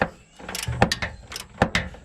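Metallic ratcheting clicks come in short bursts from a wrench turning the nut off a rear shock bolt on a 2005-2012 Nissan Pathfinder, close and moderately loud with brief pauses between strokes.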